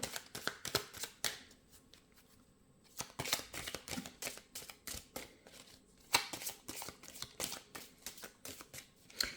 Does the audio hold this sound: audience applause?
no